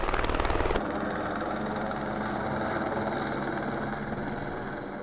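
A helicopter hovers steadily while holding a drill tower mast in place for workers bolting it below, its loud, continuous rotor throb and turbine whine droning close and unbroken, with a brief heavier thumping at the start.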